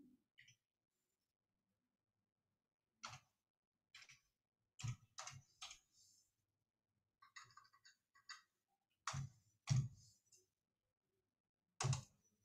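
Keys being typed on a computer keyboard in a few separate bursts, clicking sharply, close and alone with quiet gaps between the bursts.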